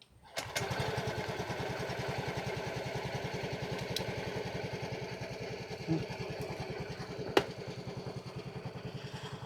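A scooter engine catches after a jump-start from a car battery and settles into a steady, close, rapid putter, with a few clicks and knocks over the idle.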